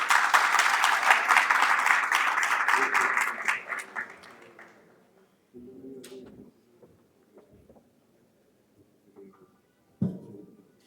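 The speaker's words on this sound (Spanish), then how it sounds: "Recibámosle con un fuerte aplauso." Audience applause welcoming a speaker at a conference on the new Dominican penal code, a sustained crowd clapping that fades after about four seconds, followed by scattered thumps and shuffling noises in a quiet room.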